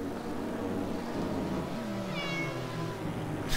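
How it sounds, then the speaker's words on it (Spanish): A domestic cat meows close by, a drawn-out, wavering call rising over a steady low background hum, alone without talk. "no sé si la escucháis maullar"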